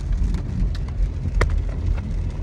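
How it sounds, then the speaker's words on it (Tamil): Rain falling steadily outdoors in Rochester, a continuous broad hiss with soft low rumble and scattered drops, fairly loud and close, with no voices. "இப்போ பார்த்தீங்கன்னா மழை பெஞ்சிட்ருக்கு"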